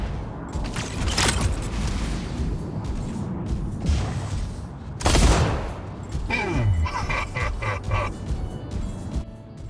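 Rapid long-gun fire in a tournament video game played with an Ares sniper build, with bursts of sharp cracks and booms over a busy game soundscape, near and loud.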